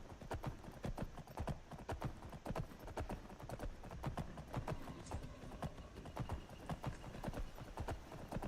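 The horse Shadowmere gallops in a video game, hooves thudding in a quick, regular clip-clop rhythm that runs steadily throughout at moderate volume.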